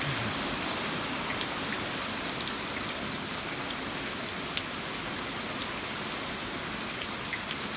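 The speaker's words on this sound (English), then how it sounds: "It just started raining again." Steady rain falls beside a creek and bridge in a wet pasture, a dense, even hiss of drops with occasional sharper pattering, constant throughout and close by, with no voices.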